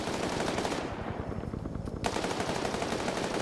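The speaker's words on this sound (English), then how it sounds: "You got that sit-down machine gun engaging the guys over here." A mounted machine gun in a Vietnam-era PvP video game fires steady, continuous rapid bursts, loud and close, with only a brief dip in the rattle midway.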